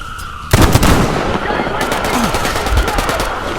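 Gunfire in the video game Metro Exodus, loud bursts of shots and impacts over a rumbling battle background.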